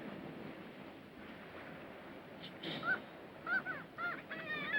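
Birds calling in a 1989 action movie scene: a few honking, goose-like calls rise near the end over a low surf-and-wind background.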